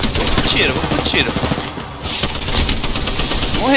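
Rapid bursts of automatic gunfire in Apex Legends crackle loudly and continuously, with a brief lull midway before the shooting resumes, set against a busy game background.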